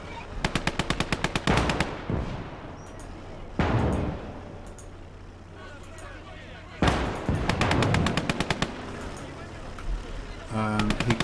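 Machine-gun bursts rattle in rapid strings during a Call to Arms: Gates of Hell Eastern Front battle, alongside heavier booming shots and explosions, several separate volleys loud against battlefield rumble.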